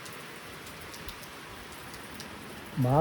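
Steady rain patters on a surface in a constant soft hiss, with a brief voice-like tone breaking in at the very end.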